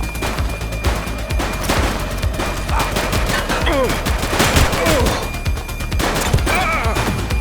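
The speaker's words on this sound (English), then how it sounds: "Shots fired!" Rapid, loud gunfire fills a police shootout in the video game The Precinct, with bursts of shots, impacts and crashes running continuously over a dense background.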